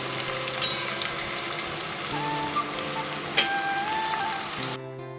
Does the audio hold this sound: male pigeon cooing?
no